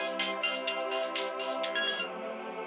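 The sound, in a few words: phone ringing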